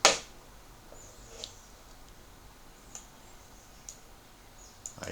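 A computer mouse clicks into a form box, a handful of sharp, isolated clicks spaced a second or so apart over a quiet background.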